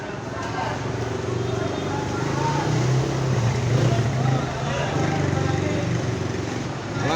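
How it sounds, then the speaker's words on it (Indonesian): A bus engine rumbles steadily nearby with a low drone as it arrives at Purabaya Bungurasih terminal shelter, while a crowd chatters and calls out over it throughout. "Bus muncul dari depan shelter jadi tidak diduga penumpang."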